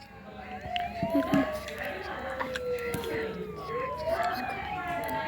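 Ambulance siren arriving after an emergency landing in the RFS flight simulator game, a wailing tone sweeping up and down steadily over a busy background with people talking.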